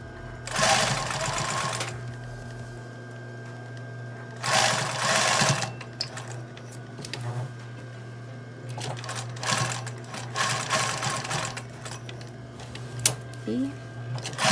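A sewing machine stitching along the edge of a blouse cuff, running in several rapid whirring bursts of a few seconds each with pauses between, close and loud, while someone talks quietly in between.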